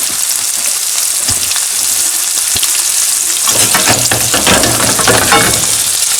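Bass sizzles steadily in a frying pan, with scattered crackles and pops that grow busier partway through, close up and without speech.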